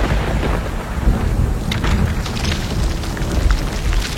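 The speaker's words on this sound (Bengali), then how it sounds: "সেদিনও রাতে এমনই ঘন ঘন বাজ পড়ছিল" Heavy thunder rolls in a deep, continuous rumble with rain pouring throughout, loud and close, in a dark horror-story setting.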